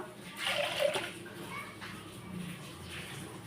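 Water pours and splashes into a pot for about half a second, then a softer trickle continues, with a faint voice in the background.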